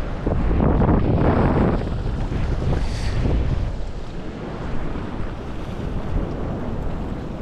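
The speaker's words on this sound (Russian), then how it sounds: "Накат какой погнал." Loud sea surf rolls and crashes continuously onto a Crimean shore, mixed with heavy wind buffeting the microphone; no voices.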